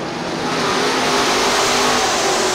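Super late model race cars at Crystal Motor Speedway in Crystal, Michigan, in 2000, roar together in one steady, dense engine drone that holds loud and unbroken throughout.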